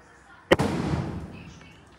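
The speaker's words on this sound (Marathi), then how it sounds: "यातला पण आता सगळ्यात मोठावाला हा बॉम्ब लावून बघूयात कसा वाचतोय" The largest firecracker bomb of a Diwali batch goes off in a village with one sharp, loud close bang. A long, rumbling crackle follows and fades over about a second and a half.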